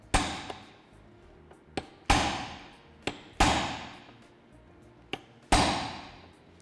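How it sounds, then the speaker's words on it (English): A hammer strikes a metal punch to bend a tab during a canvas installation: six sharp, ringing blows at irregular intervals, each decaying briefly, with lighter taps between them in a quiet space. "take a suitable punch and a hammer, place it right on that tab, and give it a couple swift hits"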